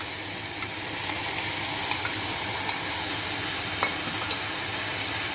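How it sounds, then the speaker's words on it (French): Grilled eggplant frying in a pan for an eggplant tart, a steady close sizzle with occasional sharp ticks as it is stirred, no voices. "Je rajoute les aubergines qui ont été grillées."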